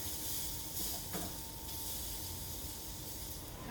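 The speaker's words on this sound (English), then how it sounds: "See that sizzle going on? And we're going to throw our shrimp on." A soft, steady sizzling hiss of shrimp frying on a hot grill pan continues evenly throughout, fairly quiet and with no voices.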